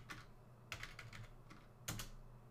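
Quiet, close computer keyboard typing comes in a few short clusters of soft key clicks with brief pauses between them, no voice over it.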